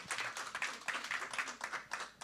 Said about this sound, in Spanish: Give a big round of applause to the Lord.